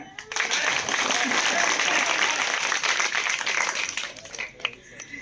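A crowd at a village jayanti celebration for Raje Umaji Naik in Ganeshwadi, Sangamner, breaks into sustained clapping for several seconds, dense and fairly close, tapering off at the end.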